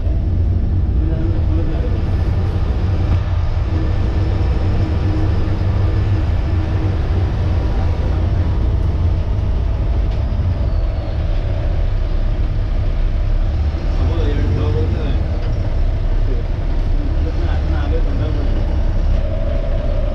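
A Gaurishankar Travels bus pulls out of a parking lot in Virar toward Dapoli, its engine giving a steady, loud low rumble throughout, with faint voices now and then.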